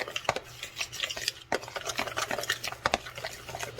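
Food being stirred and mixed in a pot after black pepper goes in, with quick scraping and knocking of a utensil against the pot in an irregular rhythm, close and clear, no voices.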